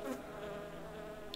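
Buzzing fly in the video game Fly Simulator 2016: a steady, continuous insect drone that stays at an even loudness throughout, with no talking.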